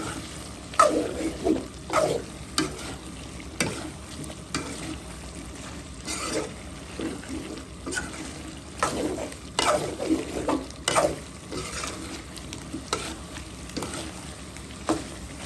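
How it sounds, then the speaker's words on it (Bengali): Chicken gizzards fry in a pan with turmeric, chili, coriander and cumin, a steady close sizzle broken by repeated scraping stirs at an uneven rhythm, with no one speaking. "একসাথে ভাজা ভাজা হয়ে যাবে"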